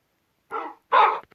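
A dog in a video game gives two quick, close barks in succession, the second louder, against otherwise silent surroundings.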